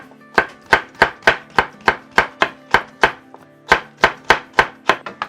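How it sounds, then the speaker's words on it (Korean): A knife chops vegetables into thin julienne strips on a cutting board, producing loud, evenly spaced close thunks about three per second, with one brief pause, no voices. "이렇게 돌려깎기로 채를 썰어 주실 때는요"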